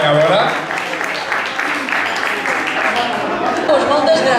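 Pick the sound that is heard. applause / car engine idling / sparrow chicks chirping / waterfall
applause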